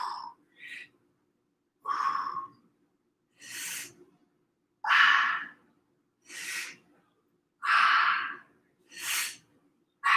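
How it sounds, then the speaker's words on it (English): Deliberate in-and-out breaths during a glutes workout, close and clear, in a slow alternating rhythm of about eight separate breaths with short silences between them. "Breathe in, breathe out."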